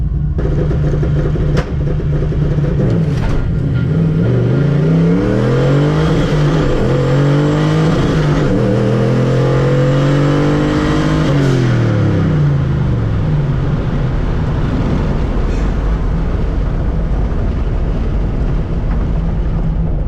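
A drag car's engine revs hard and accelerates down an eighth-mile strip, its loud pitch climbing through several gear changes before easing off, close and continuous with no voices.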